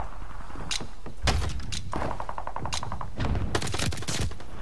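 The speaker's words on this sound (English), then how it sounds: "I hate that you can hear all the other freaking gunshot sounds." Rapid gunfire in a Champion Hill match of a shooter video game, loud irregular bursts of automatic shots and single cracks tumbling over one another throughout.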